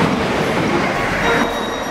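A train rolls into a station with a loud, steady rumble of wheels on rails and faint squealing, close by and continuous; no talking.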